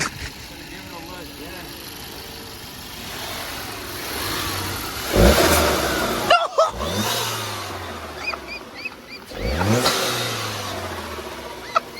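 A car engine revs up and down loudly several times, rising and falling in pitch, with people talking over it.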